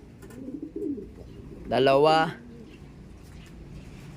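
A pigeon gives one loud, close coo lasting about half a second, set between a person's short spoken words in a bird loft, with faint background noise after.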